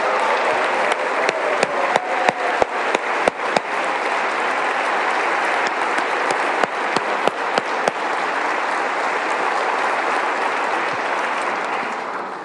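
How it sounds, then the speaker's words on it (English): An audience at a state address gives sustained, loud applause, with a cluster of sharp individual claps and thumps standing out over the crowd during the first several seconds before it settles into an even roar. "please give her a giant round of applause"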